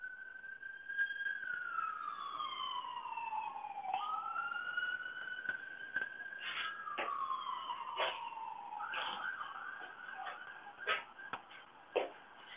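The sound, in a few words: police car siren in a small town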